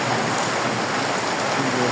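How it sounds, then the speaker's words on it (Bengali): Heavy evening rain pours down in a dense, loud, unbroken hiss that fills the whole stretch, with no voices heard. "অতি পরিমাণে বৃষ্টি এত বৃষ্টি যে বলার মতো না অনেক বৃষ্টি প্রচুর"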